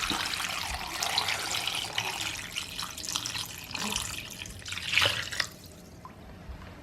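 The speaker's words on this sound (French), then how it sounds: "Et je vais ensuite venir couvrir le tout avec de l'eau" Water is poured from a tap over sliced cheese in a bowl to cover it for künefe, a continuous light splashing stream that ends abruptly near the close.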